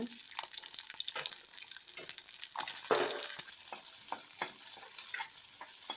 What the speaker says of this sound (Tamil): முதல்ல வெங்காயத்தை சேர்த்து நல்லா வதக்கிக்கலாங்க